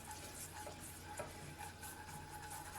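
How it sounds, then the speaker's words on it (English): A sugar and honey mixture with water being stirred in a pan over medium heat, giving a continuous soft bubbling sizzle with faint spoon scrapes, close and even throughout. "we're just gonna mix this in together over the medium heat"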